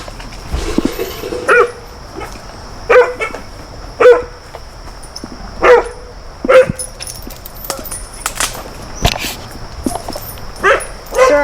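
Chained dogs bark repeatedly nearby in irregular bursts, with some yips and whimpers between, over a faint steady electronic whine.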